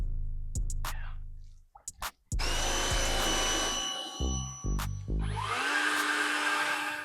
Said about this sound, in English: blower dry